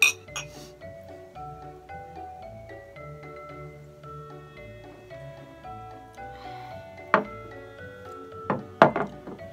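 Glasses of soda clink together twice near the end in bright, ringing taps over a quiet, humming background.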